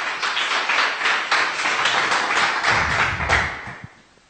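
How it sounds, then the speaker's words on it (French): A church congregation bursts into steady, dense applause that fills the room and holds for a few seconds before tapering off, with no voices over it. "Applaudissons un peu Jéhovah notre Dieu"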